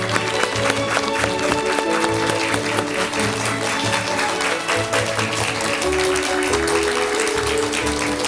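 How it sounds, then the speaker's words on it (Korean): A television studio audience applauds to welcome a mountaineer guest, sustained clapping throughout, with music playing underneath. "여러분 큰 박수로 환영해 주시면 대단히"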